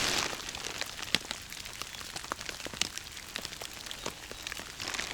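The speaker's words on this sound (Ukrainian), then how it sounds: "Це, мабуть, буде вже й до ночі дощ." Steady rain falls with scattered close drops tapping on a surface, soft and continuous, with no voices, during evening fishing at a riverbank.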